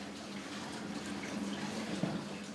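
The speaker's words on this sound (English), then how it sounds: "The fine sand is sent to a converted stable south of Bern, where it's further washed in buckets and troughs." Gold-bearing fine sand washed with water in buckets and troughs inside a converted stable south of Bern, Switzerland, making a faint, steady sloshing and trickling of water that runs evenly throughout.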